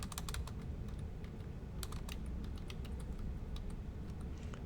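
Computer keyboard typing while entering payroll figures into a spreadsheet, a quiet patter of rapid clicking keystrokes coming in short bursts over a low background hum.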